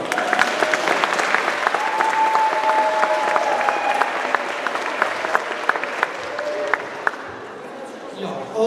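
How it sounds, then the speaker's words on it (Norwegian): Steady audience applause at an international day cultural event in Ski, Norway, with dense clapping held for several seconds under a faint sustained tone, then tapering off near the end. "Stor applaus til Hans."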